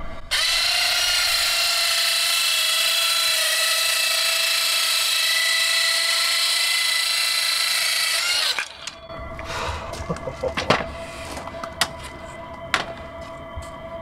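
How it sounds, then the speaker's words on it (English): A loud, steady high-pitched whine of a power saw cutting a straight edge in wood for a camper van bed runs for about eight seconds, then cuts off, leaving scattered knocks and clattering. "This is the first time I've tried cutting a straight edge with this saw."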